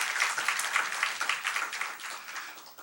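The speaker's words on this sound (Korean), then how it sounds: "우리 모르지만 축복 박수 한번 할까요?" A church congregation at a Wednesday worship service gives a blessing applause, a moderate wash of many hands clapping that gradually thins and fades, heard alone without talk.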